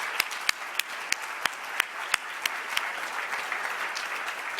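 A banquet audience at a dinner gives scattered applause, with sharp individual hand claps standing out over a softer murmur of clapping, fairly distant and steady for several seconds.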